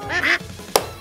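Duck quacks used as a sound element in an electronic music track, a drawn-out harmonic quack swelling then cutting off, followed by a short sharp click-like hit.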